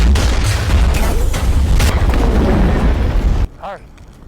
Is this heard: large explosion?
yes